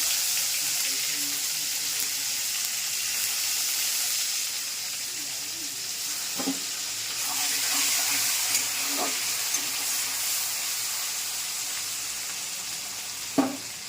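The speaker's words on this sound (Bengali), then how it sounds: "এই গোটা গরম মশলা ফোড়ন দিলাম। রসুনটা দিয়ে দেবো" Whole garam masala and garlic sizzling in hot oil in a home kitchen, a steady loud frying hiss with occasional stirring clinks, speech audible at times.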